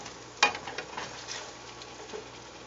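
Asparagus sautéing and simmering in a pan gives a steady, soft sizzle and bubbling, with a sharper tap of a spoon or stir early on and small crackles scattered through.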